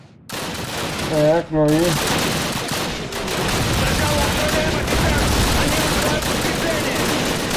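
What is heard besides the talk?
PPSh submachine gun firing in Call of Duty video game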